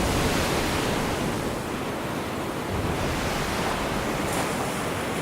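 Sea waves breaking on a windy coast, a dense, steady roar of surf mixed with buffeting wind noise against the microphone, continuous and fairly loud with no voices.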